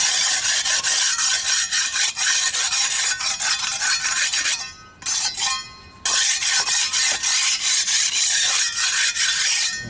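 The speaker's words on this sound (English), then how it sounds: "Scrape it all down." Fresh cement mix being scraped down on a foundation repair, with loud rapid rhythmic rasping strokes close by, a brief lull midway, then continued scraping, no talk.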